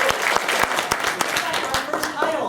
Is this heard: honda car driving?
no